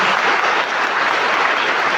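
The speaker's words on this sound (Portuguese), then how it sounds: "Vamos dar uma salva de palmas para eles, se quiser." Steady applause from a church congregation honoring the volunteers who made the festival carpet, a dense, loud burst of clapping with no talk over it.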